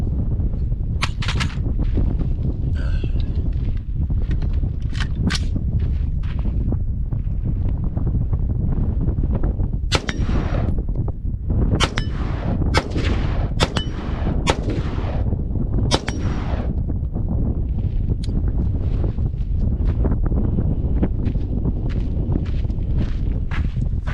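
Sharp, loud gunshots from a budget AR-15 rifle fired at about 100 yards outdoors, coming irregularly one after another over steady wind buffeting the microphone, with a few footsteps.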